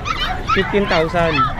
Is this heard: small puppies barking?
yes